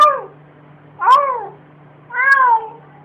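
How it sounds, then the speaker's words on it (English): A cat gives three short, gruff, bark-like calls spaced about a second apart, each fairly loud, with a faint low hum in between. "There's also a very famous video of a cat barking like a dog."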